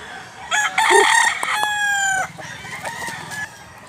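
A Bulstag gamecock crows close by in one long, loud call, followed by a few softer clucks; no talking.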